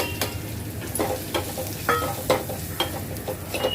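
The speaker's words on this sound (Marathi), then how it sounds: "अगदी अर्धा मिनिटभर आपल्याला स्लो गॅसवर मसाले पण परतून घ्यायचे आहेत" Spices and garlic sauté on low heat in a pan for raw mango pickle, a close, steady sizzle broken by repeated scraping strokes of a spoon stirring, with no voices.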